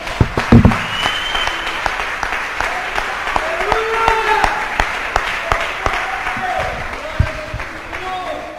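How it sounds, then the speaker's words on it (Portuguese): A church congregation at a Sunday evening service claps together, with the applause running throughout and voices and some tonal sound rising over it. "Vamos aplaudir ao Senhor?"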